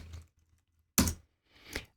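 Computer keys pressed during a Korg M3 synthesizer tutorial: three separate sharp clicks spaced over two seconds, close and quiet, with silence between them and no talking.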